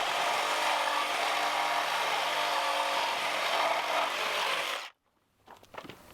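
A saw cuts through a wooden pallet, running steady and loud for almost five seconds before stopping abruptly, followed by a few faint clatters of handling.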